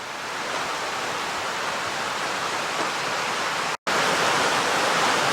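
Roush Creek flows past a bridge and a bank of crushed limestone, giving a loud, steady rushing wash with no talk and a brief dropout near the end.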